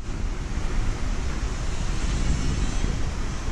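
A steady rush of blowing air from an electric fan running close by at its lowest speed, its motor converted from 220V AC to 12 volts, with an even whooshing hiss throughout.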